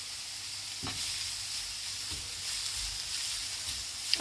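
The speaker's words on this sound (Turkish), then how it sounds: "aslında bu bir nevi kabakları sote etme işlemi" Zucchini sautéing over high heat in a pan for vegan pesto, a steady bright sizzle with a few soft stirring scrapes, close and continuous without talk.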